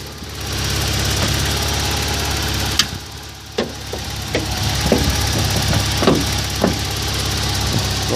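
A four-cylinder petrol engine with a redone timing belt idles steadily and loudly at close range, with a constant hum and occasional sharp knocks or clicks, without talk.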